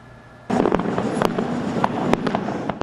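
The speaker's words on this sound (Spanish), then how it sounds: "varias ciudades festejaron con espectáculos de fuegos artificiales" Fourth of July fireworks show, with a burst of crackling pops and sharp bangs kicking in abruptly and continuing in dense, irregular volleys, fairly close and loud.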